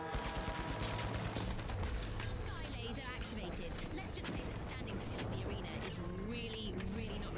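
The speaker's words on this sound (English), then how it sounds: "Who's shooting?" Rapid bursts of video game gunfire crackle steadily throughout a competitive match of THE FINALS, layered with dense game effects and music, with a player's voice talking over the action.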